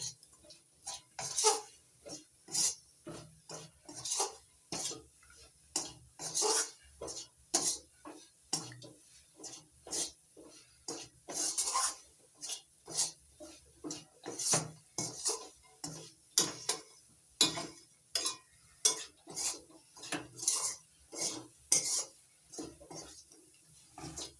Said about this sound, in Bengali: সাদা তেল দিয়ে নাড়াচাড়া করে মিশিয়ে নেব মাখনার সঙ্গে